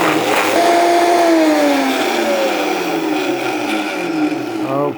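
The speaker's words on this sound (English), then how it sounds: "This is a high-speed blender." A high-speed blender whirs steadily while pureeing pork and nopales into a smooth puree for tacos de guisado, a loud continuous motor drone with a slowly falling pitch.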